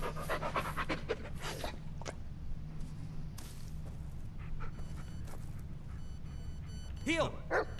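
A dog in the Blair Witch video game pants in rapid, steady breaths close up, joined by a few light thumps and squishy game sounds, while a person talks over part of it.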